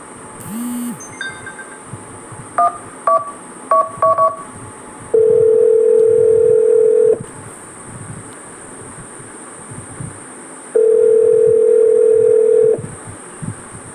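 Phone dialing in the Duskwood video game: a string of short keypad tones plays, then two long steady ringback tones follow with a pause between them, loud and clear with no talking over them.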